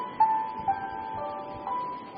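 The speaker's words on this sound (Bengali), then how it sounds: "রিং হচ্ছে, ফোন কেন ধরছে না?" A phone rings with a tinny electronic melody, a few short repeating tones sounding moderately near and faint over a quiet background, with no voices.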